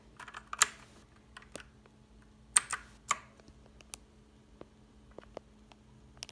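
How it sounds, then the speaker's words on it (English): Keys clack on an EagleTec KG040 mechanical keyboard in scattered, uneven presses, some sharper and louder than others, with a faint hum underneath and no voices. "The mechanical keyboard."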